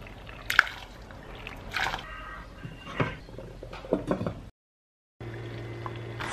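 Water poured into a pot of gooey Saudi date porridge, with irregular splashes, trickles and sloshing bursts close by, a short silent gap, then a steady low hum.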